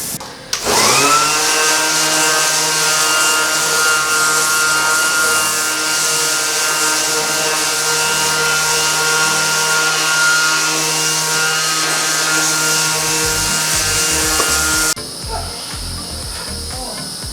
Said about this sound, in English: now we're going to go ahead and sand them